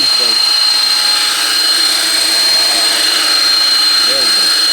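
A 450-size 3D-printed RC sky crane helicopter whines at high pitch as it lifts off, a loud steady rotor and motor drone close by with brief voice fragments underneath.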